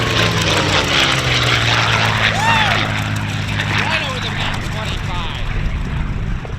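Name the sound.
WWII propeller aircraft engine during takeoff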